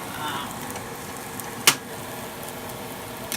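Butter sizzles steadily in a hot pan for a breakfast of eggs cooked with heavy cream, a soft close crackle with one brief sharp clatter partway through.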